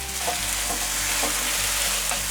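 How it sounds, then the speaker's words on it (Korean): Vegetables with a spoonful of soy sauce stir-fry in a hot pan, giving a steady, close sizzle with soft scraping stirs throughout and no voices. "먼저 넣고 볶을게."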